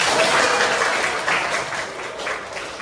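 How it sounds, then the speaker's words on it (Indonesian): Steady applause from a classroom audience, dense clapping at a constant loud level throughout, without talk. "Tepuk tangan untuk kita semua."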